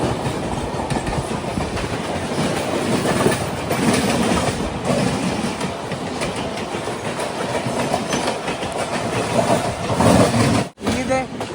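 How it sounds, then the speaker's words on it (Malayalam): The Mandovi Express runs downhill, heard from on board with a loud, continuous rattling clatter of wheels and carriages that barely lets up, a brief dropout near the end. "ഇനിയിത് മുകൾ ഭാഗത്തു നിന്നാണ് ട്രെയിൻ ഇറങ്ങി വരുന്നത്"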